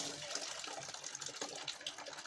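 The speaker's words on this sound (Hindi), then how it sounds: "अभी मैं आपको पानी गिरा के दिखाता हूँ" Water poured out of a dried gourd bottle used as a traditional water container, a fairly quiet splashing gush that fluctuates and continues for a couple of seconds with no talking.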